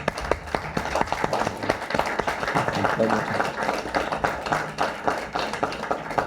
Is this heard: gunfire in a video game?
no